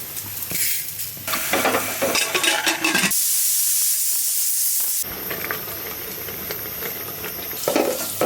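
Shim bhaji, a bean fry, sizzling on a stove: loud frying hiss and crackle with stirring, broken by a burst of steady steamy hissing in the middle before the sizzling resumes.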